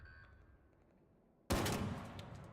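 Gunfire in the video game Arc Raiders, a quiet ambient stretch broken by a sudden loud burst of shots that rings out and tails off.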